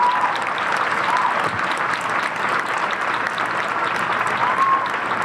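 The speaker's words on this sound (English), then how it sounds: "please give yourselves a round of applause right now" A large crowd applauds steadily at the outdoor unveiling of The Embrace monument in Boston. The dense clapping stays loud and even throughout, with a few faint cheering voices mixed in.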